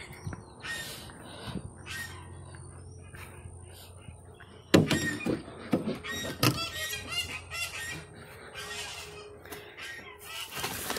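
Geese on a farmstead give repeated harsh honking calls at feeding time among ducks, turkeys and chickens, with a sharp thump or clatter partway through and scattered farmyard noise around them.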